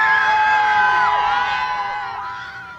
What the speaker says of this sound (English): You're hearing those cheers as crowds gathered outside the courthouse as that verdict was read